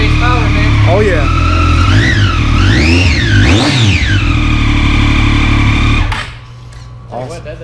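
A Triumph Daytona 675R inline-three with its stock exhaust revs loud and close, with repeated rising and falling blips and sweeping pitch, then cuts off abruptly near the end, leaving a quieter tail.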